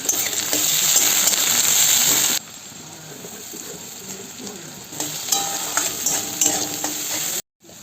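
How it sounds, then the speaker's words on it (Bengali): Green chillies, onion and tomato dropped into hot oil together, a loud burst of sizzling at first that settles to a softer steady frying hiss with stirring scrapes. "কাঁচা লঙ্কা, পেঁয়াজ, টমেটো তেলের মধ্যে দিয়ে দিচ্ছি একসঙ্গে"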